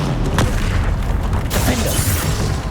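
An Incendio fire spell cast in the Hogwarts Legacy video game erupts as a continuous low booming roar with crackling bursts and whooshes layered on top, loud and close throughout.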